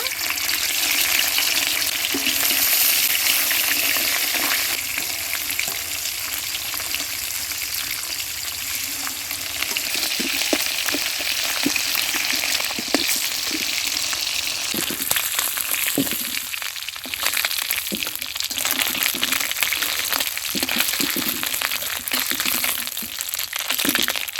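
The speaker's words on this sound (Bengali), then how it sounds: "বাকি মাছগুলোও ভেজে নেব" Fish sizzles steadily in hot oil for a seeded-banana fish curry, a loud, continuous close-up fry with bursts of crackle and a few soft utensil clinks throughout.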